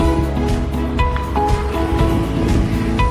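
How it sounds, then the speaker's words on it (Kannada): Water rushes steadily through a channel on the road toward Jog Falls, heard during a cycling ride as a continuous broadband wash with a faint tonal hum running through it. "ನೀರು ಹೇಗೆ ಚಾನಲ್ನಲ್ಲಿ ಹರಿತಾ ಇದೆ ನೋಡಿ"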